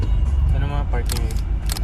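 A camera shutter clicks once or twice, sharp and close, while a person talks in the foreground.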